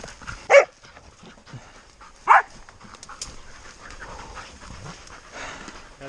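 Hunting dogs panting after a pig hunt in the New Zealand bush, close rapid breathing with two sharp barks early on and a faint voice in the background.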